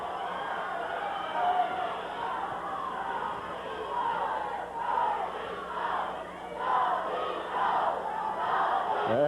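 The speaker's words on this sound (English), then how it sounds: "You can hear them chanting, "Go, Steve, go. Go, Steve, go."" A wrestling crowd at a Portland main event chants in steady rhythmic waves, loud and continuous, with a roar of voices rising and falling throughout.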